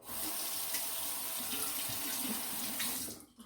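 Tap water runs steadily and close by into a sink while a shaved head is rinsed between passes with tea tree mint shaving cream, a continuous splashing hiss that stops abruptly at the end.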